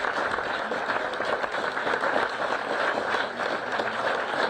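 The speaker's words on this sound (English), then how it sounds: "A nice round of applause." Crowd applause at a women's football match between Wolves Women and Sheffield FC, a steady wash of clapping from the stands heard at a moderate distance with a muffled roar beneath.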